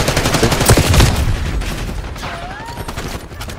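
Gunfire in Call of Duty Black Ops 6, a dense close burst of rapid shots for about a second and a half, then quieter scattered firing trailing off.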